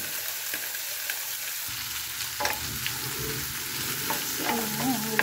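Fish and tomatoes fry in a pan, giving a steady close sizzle with stirring clatter and scraping, a few sharp utensil taps, and louder bubbling spitting toward the end.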